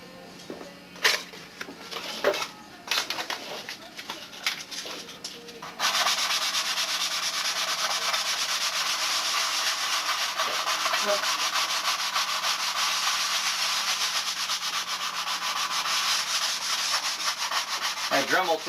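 A sanding block scrapes over a model airplane, first in short separate strokes and then in a long, steady, close rasping run.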